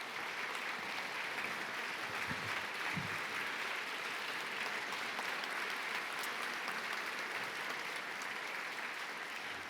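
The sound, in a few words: audience applause at awards ceremony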